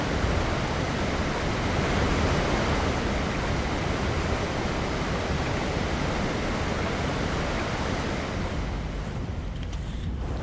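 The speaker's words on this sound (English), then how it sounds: "This waterfall is loud." A loud waterfall in the video game ARK: Survival Ascended roars as a dense, steady wash of broadband noise filling the whole clip, easing slightly near the end.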